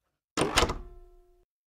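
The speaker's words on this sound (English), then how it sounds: "slammed the door in his face" A front door slams shut in a children's story about a wolf at the door: one loud, close bang with a brief ringing rattle fading over about a second, with no talking.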